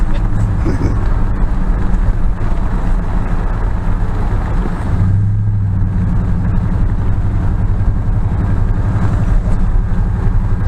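A 1958 Ford F100 pickup truck engine running after years of sitting: a steady, loud low rumble that holds throughout, close by, with voices talking over it.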